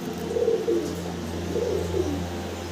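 Soft coos from racing pigeons repeat a few times over a low steady hum, close by and fairly gentle.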